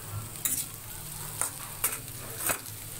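Pointed gourd and potatoes fry in a pan with a quiet sizzle, while a utensil scrapes and stirs in four or five sharp, close strokes.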